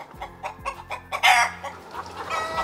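A domestic chicken clucks in a run of short, repeated calls with a louder squawk near the middle, close by, with no talking.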